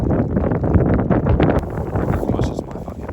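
Strong gusting wind buffets the microphone at the Anglesey race circuit on a rainy day, a steady loud roar with rumbling low-end bursts that continues throughout.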